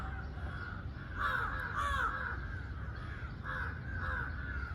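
Crows cawing outside an 18th-floor apartment during Eid, several harsh caws in short bursts over a steady hum of background noise.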